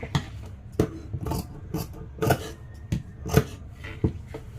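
Scissors snip through fabric during home tailoring of a sleeve, a series of sharp, close crisp cuts spaced irregularly about every half second.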